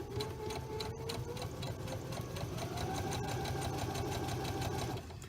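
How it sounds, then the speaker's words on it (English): A Baby Lock Presto II sewing machine stitches through scrap fabric, a fast, even mechanical whirr running steadily and close, with a couple of sharp clicks along the way. "So you just start sewing."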